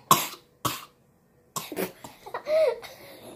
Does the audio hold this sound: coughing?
yes